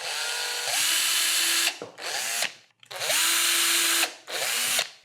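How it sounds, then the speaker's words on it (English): A small bit drills little pilot holes into wood in two bursts, each with a whining spin-up, a steady high buzz and a slowing wind-down, loud and close with short pauses between. "Make little pilot holes with a very small drill bit."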